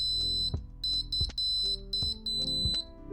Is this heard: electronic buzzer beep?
yes